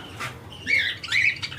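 Pet birds, including a red-eyed breeding pair, squawk and chirp from cages at a Sunday bird market in Korangi, a few sharp close calls over low background noise.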